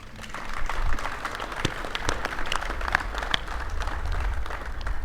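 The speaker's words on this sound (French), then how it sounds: "Cher coach Aliou, je voudrais qu'on t'applaudisse très fort." Applause for a football coach at a ceremony honoring the Senegal national team after the 2019 Africa Cup of Nations: a sustained wash of crowd clapping at steady, moderate loudness, with a few sharper claps standing out, throughout.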